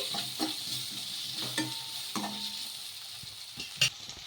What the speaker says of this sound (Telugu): ఇందులోకి కొద్దిగా మిరియాల పొడి కొద్దిగా ధనియాల పొడి ఒకసారి బాగా కలిపేసుకోవాలి